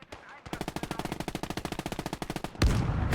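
Half-track machine gun in the WWII game Gates of Hell: Ostfront firing on infantry, a rapid, even burst of about two dozen loud shots, then a heavy blast as the fire stops.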